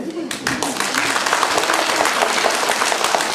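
A St. Nicholas Day celebration audience at the OPK "Lybid" club breaks into applause after a brief voice at the start. Thick, even clapping from a crowd then carries on loud and unbroken to the end.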